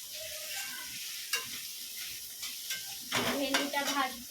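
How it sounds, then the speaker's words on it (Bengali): Soft sizzling of okra frying in a pan, with a few sharp scraping stirs that grow louder and busier toward the end. "আর এই যে ভেন্ডিটা ভাজছি"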